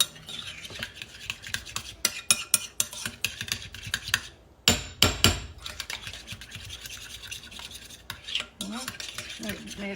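A utensil mixes crab cake mixture in a bowl, giving close, irregular scraping and clinking strokes with brief pauses, loudest around the middle.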